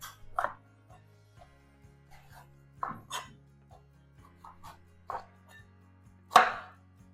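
Green and red bell peppers being chopped on a cutting board, a handful of separate knife cuts and light scraping at irregular intervals over a low steady hum, with one sharper, louder chop near the end.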